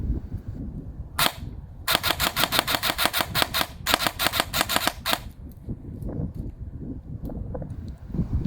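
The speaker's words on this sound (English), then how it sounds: "you can hear what a full shooting cycle on the S-AEG sounds like" Bursts of rapid full-auto fire from an airsoft AR-15 S-AEG on a 7.4-volt battery, crisp mechanical cycling clatter in several short strings with pauses between, close and alone.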